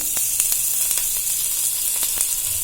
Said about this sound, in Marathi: 1 चम्मच अद्रकची पेस्ट घालते.